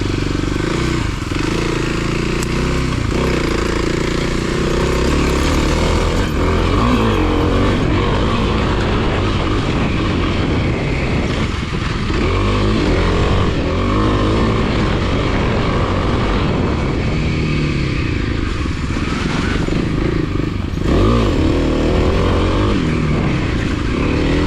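Kawasaki KLX300 dirt bike engine revving hard on a trail, a loud continuous four-stroke drone rising and falling with throttle and clutch feathering, up close with no voices.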